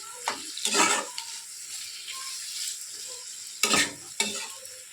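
A spatula scrapes and stirs through sizzling ivy gourd (tindora) in a pan, a few distinct strokes over a steady frying hiss.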